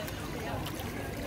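A ferry on the crossing to Nusa Penida gives a constant rumble mixed with rushing water and wind, steady and loud throughout the short stretch.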